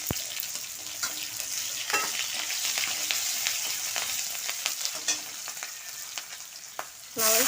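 Spices and black cumin frying in hot oil in a pan, green chillies then tossed in: a busy, close sizzle with stirring scrapes throughout and a sharp burst of crackle near the end, no talk.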